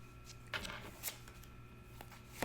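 Tarot cards being shuffled in a quiet room, a few soft riffles and flicks at a moderate, uneven pace, close and fairly faint, with a steady low hum underneath.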